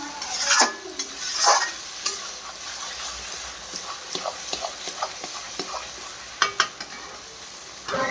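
Eggplant for baingan bharta sizzling as it fries in a pan, a steady soft crackle broken by a few louder stirring scrapes and utensil clinks, close and with no talk.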